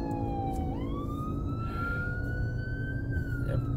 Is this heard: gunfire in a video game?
no